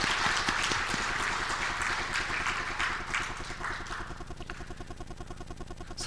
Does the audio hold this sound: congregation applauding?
yes